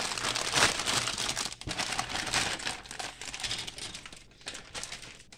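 Plastic bags crinkle and rustle up close in irregular bursts, with brief quieter pauses between handlings.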